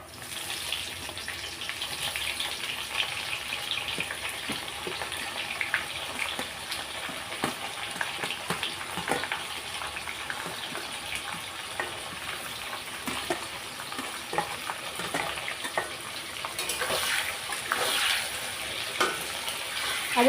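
Chopped onions frying in hot masala for a desi chicken curry, a steady low sizzle with scattered stirring clinks running throughout, close and moderately quiet.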